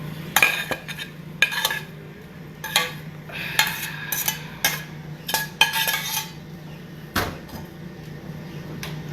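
An old plate handed down through the family is set down among other dishes, with repeated clinks of crockery and cutlery and a cupboard knock, close and fairly sharp against a quiet kitchen background.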